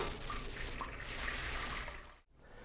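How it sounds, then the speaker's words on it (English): Leftover beer braising liquid from beef shanks pours through a strainer into a pot, a steady close trickle and splash that runs continuously and stops abruptly near the end. "I'm simply going to take what's left in this, pour it through the strainer."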